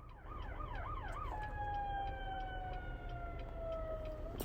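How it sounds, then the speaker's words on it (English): An ambulance siren wails through city traffic, first in a fast rising-and-falling yelp and then settling into long steady tones, moderately distant beneath the street noise. "There's an ambulance."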